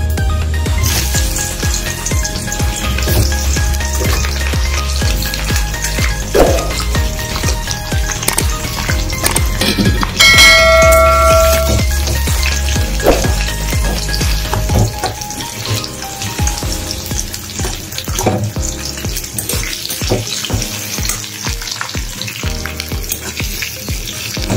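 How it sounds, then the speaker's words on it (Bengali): Chopped onion fries in hot oil over a tempering of dried chillies, bay leaf and cumin for a mutton keema and pea ghugni. A close, continuous sizzle runs throughout, with occasional stirring clatter and no talking. "পেঁয়াজটাকে লাল লাল করে ভেজে নেব।"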